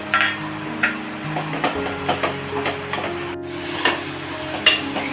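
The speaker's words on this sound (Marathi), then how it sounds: "हे बघा वाटण चांगलं मी परतून घेतलेलं आहे" Sweet ground masala paste with garlic paste sautés in a pan with a steady low sizzle, broken by regular scraping stirs of a spoon; close and moderately loud, no speech.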